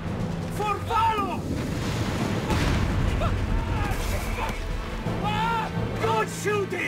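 Artillery barrage in the video game Company of Heroes 3 on an Italian army mission, a dense, continuous roar of booms and rumbling blasts mixed with battle noise, while soldiers shout over it.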